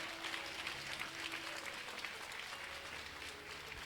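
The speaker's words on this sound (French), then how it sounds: "Acclamez le Saint-Esprit." A church congregation claps together to acclaim the Holy Spirit, a dense and sustained wash of applause heard from within the crowd, with faint voices underneath.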